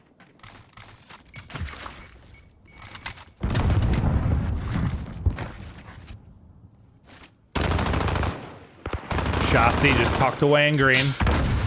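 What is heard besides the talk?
gunfire in a Call of Duty video game match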